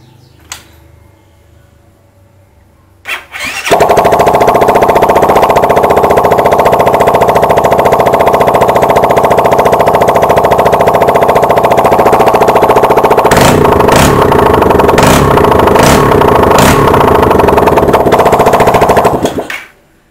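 A motorcycle without its exhaust fitted, freshly repaired, starts after a brief crank and runs loud and raw with a steady open-pipe roar, then several sharp revs blip near the end before it cuts off.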